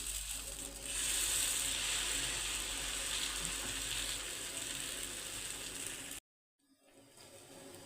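Pesarattu batter of green gram and rice flour cooks on a non-stick pan with a steady, fairly quiet hiss and sizzle that cuts out abruptly near the end, then returns faintly.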